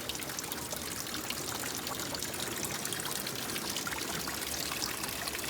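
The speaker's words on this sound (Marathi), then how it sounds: "हे बघा, तुम्ही बघू शकता की हे बघा केवढे झरे आलेले." Water runs steadily from mountain springs in Ratnagiri, Kokan, a constant close splashing and trickling flow with no breaks and no voices.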